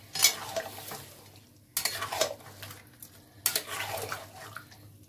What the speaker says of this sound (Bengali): লবণটা স্বাদ মতো দিয়ে মশলাটা এবার কষানো হবে ধীরে ধীরে